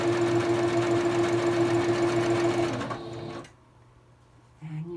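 A sewing machine stitches fabric pieces for placemats, whirring steadily and close for about three seconds before stopping, with a brief voice afterward.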